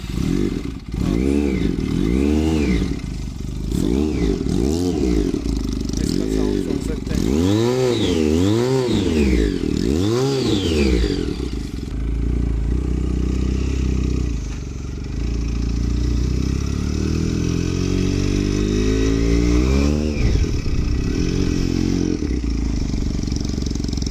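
A 2016 Kawasaki Ninja replica dual-cylinder motorcycle engine revs repeatedly, loud and close, with rising and falling throttle blips in quick succession, then settling into a rougher steady idle and another surge, with no talking.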